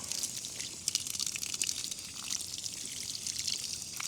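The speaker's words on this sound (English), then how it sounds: "I'm just gonna have to rinse each one off here. Just try to get all that sand out of there." Water pours and splashes steadily as sand is rinsed from razor clams, a close, continuous trickling gush at moderate volume with no talking.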